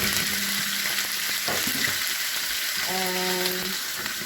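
Green and red peppers and onions sauté in oil in a pot with a steady, close sizzle. A few clinks and scrapes come through, along with a short tonal hum partway through. No voices are heard.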